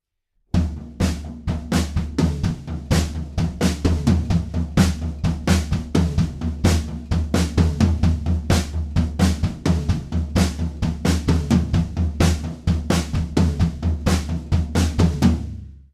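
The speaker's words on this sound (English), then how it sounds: "we're just going to play 4 on the floor all the way through" A drum kit drives a steady four-on-the-floor bass drum through the final chorus of a song, with dense, evenly spaced kicks and cymbal wash that stay loud and close for the whole stretch.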